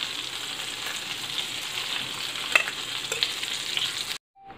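Meatballs fry in a pan with a close, continuous crackling sizzle and scattered pops, the sound cutting off abruptly near the end.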